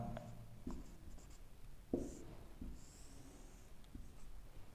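Writing on a board during a geography lesson, heard as a few scattered scratchy strokes and taps, faint and close, separated by quiet gaps, with no one speaking.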